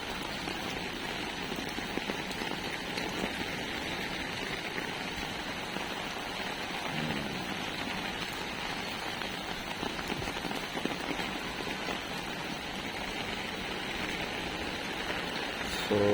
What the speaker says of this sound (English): So we have heavy rainfall.